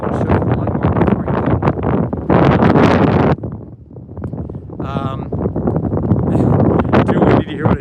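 Strong katabatic wind sweeps across a glacier, battering the microphone with loud, continuous rumbling buffets that surge and briefly ease, with a voice faintly audible beneath the gusts.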